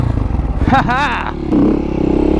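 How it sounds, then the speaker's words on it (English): A supermoto motorcycle doing a burnout at a lot-day meetup, its engine roaring loud and close with a rising rev and scraping tire chatter, mixed with voices in the background. "Little burnout action, little wheelie action."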